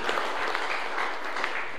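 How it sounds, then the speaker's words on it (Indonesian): A church congregation cheers and claps steadily during a Sunday worship service, a dense, even wash of applause and shouting voices lasting a couple of seconds. "Berikan sorak-sorai buat Tuhan"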